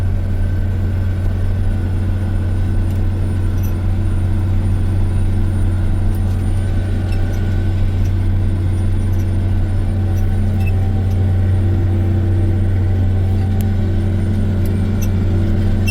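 A tractor engine running near wide open at 2,000 RPM while pulling a Protill, giving a loud, steady, unbroken low drone with a constant deep hum throughout and no speech.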